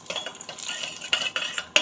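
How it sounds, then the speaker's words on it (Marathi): Dry fruits fry in ghee while a spoon stirs and scrapes the pan, with clinking metal strikes and soft sizzling between them, close and irregular. "इथं मी आधी तुपात ड्रायफ्रूट्स परतून घेते छान."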